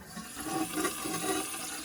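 Water rushes steadily into a 1956 Case toilet tank as it refills, a continuous hissing, gurgling flow that stays fairly close and even, with no voices.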